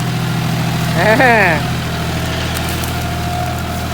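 A John Deere 5040D tractor fitted with anti-sink wheels idles steadily, a low continuous engine rumble with a constant hum throughout and a brief voice in the middle.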